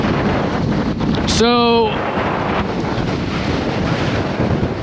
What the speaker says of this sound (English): And the wind is just absolutely incredible.